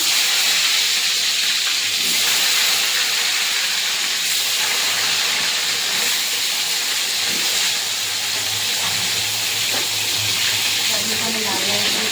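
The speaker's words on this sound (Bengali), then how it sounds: "তেল গরম হয়ে গেছে পটলগুলো এবার দিয়ে দেবো" Pointed gourd (potol) pieces frying in hot oil, a steady broadband sizzle and hiss that runs loud and unbroken through the whole stretch, with faint background murmur underneath.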